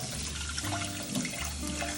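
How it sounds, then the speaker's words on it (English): Ice cold water is poured over hot tomatoes sitting in a strainer, a continuous close splashing and trickling of liquid heard alone for a couple of seconds. "Dressing them with ice cold water, just a little bit, so I can peel them very, very soon."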